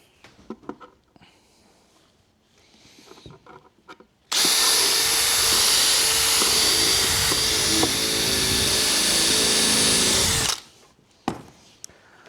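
A power drill drives screws into the wooden bed of a DIY camper kitchen unit, starting abruptly with a loud, steady whirring drone for about six seconds. Before and after it there are quiet handling knocks.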